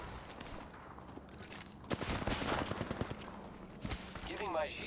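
Rapid video-game gunfire from enemies in a squad shooter crackles in bursts from mid-distance, thickest in the middle stretch, with footsteps and a voice speaking over the fight.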